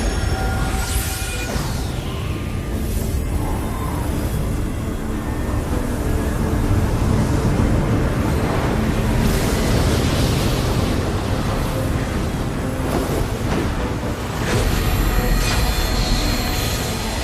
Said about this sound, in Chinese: 接下来，释放魔法，暴风雪。